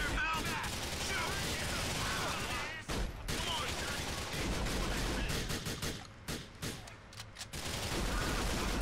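Sustained automatic gunfire from a gun in the video game GTA 4: Episodes from Liberty City, The Lost and Damned, with rapid loud bursts filling most of the stretch, a brief pause near the three-second mark, and voices over the shooting.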